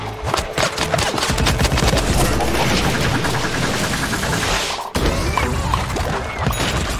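Rapid bursts of Plants vs. Zombies gunfire with crashing impacts, loud and nearly continuous, with dense volleys of shots early on.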